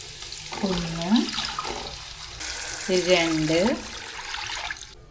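Glassfuls of plain water pour into a heated cooking pot in a home kitchen, two rushing splashes while a woman counts aloud.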